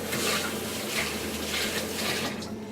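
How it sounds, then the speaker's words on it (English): Hands are washed under a running kitchen tap, a steady close splashing rush of water into the sink with soft shifting gurgles throughout. "Let me wash my hands."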